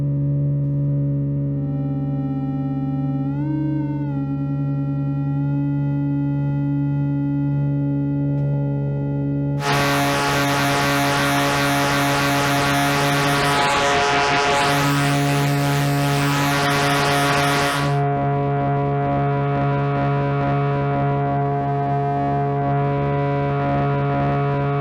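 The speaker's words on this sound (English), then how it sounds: "some of the ring mods just sort of add a bit of distortion and some octaves" Steady electronic synth tones from a small Eurorack modular synthesizer with a brief pitch wobble, then a harsh, buzzing ring-modulated burst of distortion for several seconds before settling back to droning tones.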